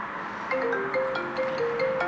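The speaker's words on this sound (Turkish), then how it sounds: "Telefon çalıyor." A phone rings with a steady electronic tone repeating in short tonal bursts, moderately loud over faint room noise.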